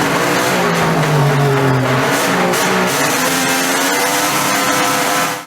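Engine run of a Honda RC174 replica racing motorcycle at an event, a loud close high-revving engine note that climbs and falls, continuous for several seconds.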